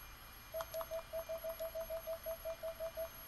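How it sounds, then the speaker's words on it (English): Alarm clock ringing in Fate/stay night Remastered, a rapid series of about fifteen short electronic beeps in steady rhythm, clear and moderately loud with no talk. "I peer at the alarm clock through sleepy, heavy eyelids."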